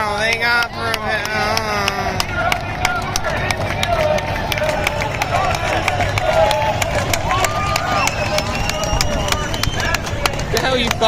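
At a drag racing event for street cars and stick class, a crowd claps for a proposal, sharp scattered claps repeating steadily for several seconds beneath loud nearby chatter and crowd babble.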